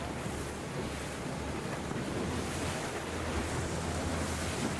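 Wind and ocean surf off Bruny Island on the Great Southern Ocean, a steady, loud broadband rush with low rumble throughout, likely heard from a boat, with no voices.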